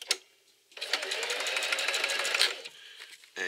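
A sewing machine runs fast and steadily for about two seconds, stitching a row down a shoulder strap, with quiet pauses and a few light clicks before and after.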